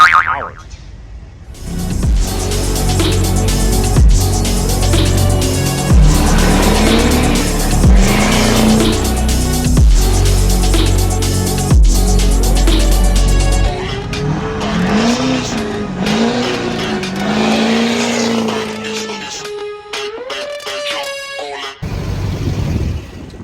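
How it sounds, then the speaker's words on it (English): A Duramax diesel truck runs on nitrous with loud, sustained engine roar and tire squeal from burning rubber, shifting through pitch changes before cutting off near the end. "I'm gonna try to do a with nitrous and without nitrous pull."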